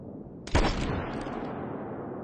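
A hunting rifle fires in the video game The Hunter: Call of the Wild during a wolf hunt: one sharp, loud crack that tails off into a brief rolling echo over quiet background.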